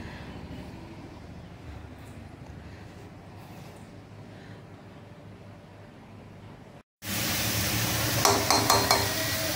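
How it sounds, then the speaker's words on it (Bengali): Bottle gourd peel frying with potato, onion and green chili in a pan; a quiet stretch gives way to a loud, steady sizzle for the final seconds. "এটার মধ্যে লাউয়ের খোসা দিয়ে, আলু দিয়ে, পেঁয়াজ দিয়ে, কাঁচা লঙ্কা দিয়ে ভাজা"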